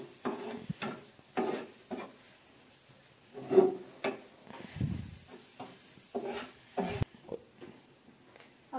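Spice paste with coriander powder and turmeric is stirred in a pan, giving intermittent scraping strokes and soft sizzling, close and fairly quiet, with no one talking.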